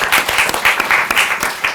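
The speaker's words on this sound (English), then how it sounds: "Round of applause." Audience applause at a panel event on climate finance reporting, a steady dense patter of many hands clapping, fairly loud and close, with no speech over it.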